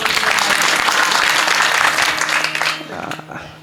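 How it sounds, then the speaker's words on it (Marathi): An audience at a kirtan applauds the singers and musicians with loud, dense clapping that holds strong, then thins and fades toward the end. "एकदा गायक वादकासाठी जोरदार टाळ्या झाला पाहिजे महाराज"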